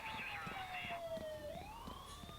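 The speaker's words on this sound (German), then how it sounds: "Also das ist das nächste Polizeiauto." A police car siren in the video game Thief Simulator wails steadily through the whole stretch, its tone sliding down and then climbing again, with a voice talking over it.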